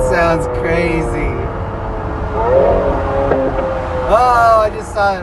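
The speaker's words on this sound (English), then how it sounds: "I just saw a flame shoot out the back. And then it popped." A modified car at a Saturday night cruise in Denver, Colorado, revs loudly close by with a sharp exhaust pop, while several people talk excitedly over the engine noise.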